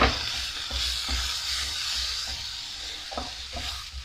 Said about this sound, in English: Just get this mixed in, just get everything coated in the flour.